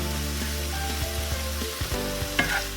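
Ingredients fry in a hot pan for a tuna filling, a steady loud sizzle running throughout with a few soft stirring knocks and scrapes and one brighter clatter near the end.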